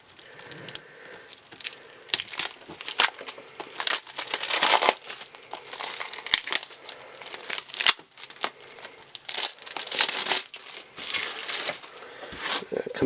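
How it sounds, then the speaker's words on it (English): Close crinkling and tearing as the foil seal on a PS4 Battlefield 5 Deluxe Edition game case is broken and peeled, in irregular crackly bursts with brief pauses throughout. "let me break the seal so we don't get all that glare from the little foil on here"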